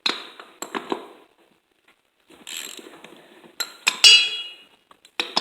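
A 13/16 socket on an extension breaks loose the wheel nuts on a lawn mower, giving scattered metallic ratchet clicks and clinks in short bursts with pauses between, close and moderately loud.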